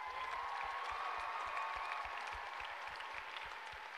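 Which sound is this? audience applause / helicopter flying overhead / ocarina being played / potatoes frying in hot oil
audience applause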